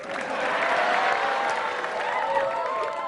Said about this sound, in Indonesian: Sekali lagi tepuk tangan buat saya.